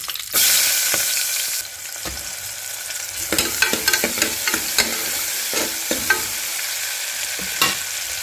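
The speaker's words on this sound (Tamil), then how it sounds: "அது பொறிஞ்ச உடனே ரெண்டு பச்சை மிளகாய் சின்ன வெங்காயம்" Spice powder, green chillies and shallots crackle in hot oil with a loud initial sizzle, then brisk close stirring and clattering against the pan in quick irregular strokes, no voices.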